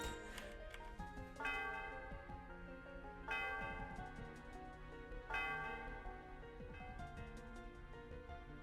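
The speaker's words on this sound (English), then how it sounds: "The sound of the bell reverberates throughout the area." A large bell in the Celestial Tower of Pokemon White rings out in a game scene, with several strong, resonant strikes spaced a couple of seconds apart, each leaving a long shimmering decay over sustained background music.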